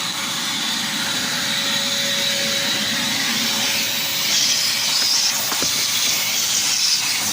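A loud, constant hissing roar of a vacuum cleaner running nonstop inside a 2011 Toyota Prius, with a faint steady hum and a small knock partway through.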